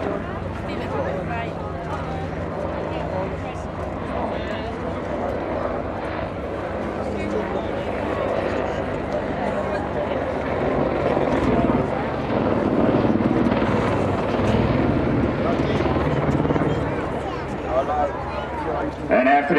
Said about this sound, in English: The helicopter is coming back to perform a roll maneuver.